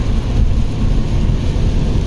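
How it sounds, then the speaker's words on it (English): Steady, heavy rain roaring without a break, a dense wash of noise with a strong low rumble underneath. "Somewhere in Indiana while it's raining cats and dogs."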